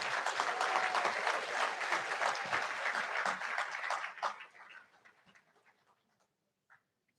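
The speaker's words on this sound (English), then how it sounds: "How about another round of applause for our MBA graduates?" A crowd at a spring master's hooding ceremony applauds MBA graduates with dense, loud clapping that fades out after about four seconds, leaving a few scattered claps and then near silence.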